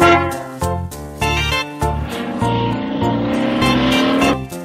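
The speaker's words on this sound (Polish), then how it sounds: "Koła autobusu toczą się przez całe miasto." A cartoon bus rolling along in a children's nursery rhyme, with rhythmic engine-like pulses that swell into a rising rev over a bouncy musical backing.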